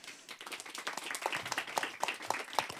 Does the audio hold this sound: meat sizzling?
no